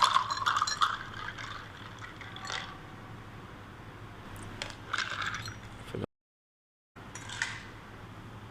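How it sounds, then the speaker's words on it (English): Honey citron drink with ice being poured into a glass, soft liquid splashing with a few clinks of ice against the glass, a brief silent gap, then more pouring. "pour all the things inside the glass"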